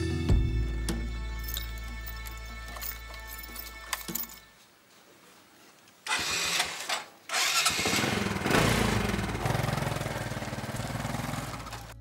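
Small motorcycle engine of a tricycle in Quezon starting up and running, first a steady idle, then a quiet gap before the engine revs back in loudly and holds a rough, buzzing drone.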